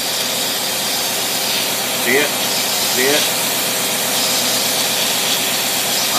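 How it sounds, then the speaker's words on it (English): An International truck engine fitted with a Holley two-barrel carburetor idles under a light load, a steady broadband hiss and rumble, with someone talking briefly over it. "this is idle with a light load, like the one person in the truck"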